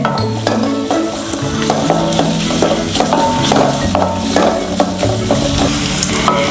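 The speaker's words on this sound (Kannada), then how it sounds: "ನೀರುಳ್ಳಿ ಫ್ರೈ ಆವೊಂದು ಬತ್ತಂಡು" Chopped onions sizzling and frying in hot oil in a pan for chicken curry, a loud continuous crackle with repeated scraping and stirring clinks of a spoon against the pan throughout.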